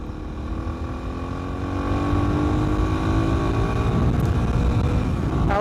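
A Suzuki DR 250R motorcycle pulls away under throttle, its engine note rising steadily in pitch and loudness as it accelerates, alone with no talking.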